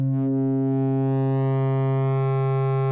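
A synthesizer patch holds a sustained low bass tone whose harmonics grow brighter and more distorted, steady and loud with no voices.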